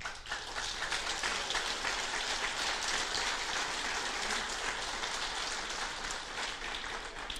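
Steady, dense applause from a church congregation at a celebration honoring the priesthood, a continuous rain-like wash of clapping that holds evenly throughout without any voices on top.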